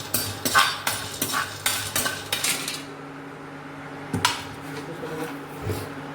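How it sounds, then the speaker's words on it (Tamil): Chopped medicinal roots are dry-roasted in a pan with a string of metallic clinks and scrapes from a utensil against the pan. The sound is busy at first, then thins out to a few sharper knocks. "நறுக்கு முழத்தை நன்றாக வறுத்து கொள்ள வேண்டும்."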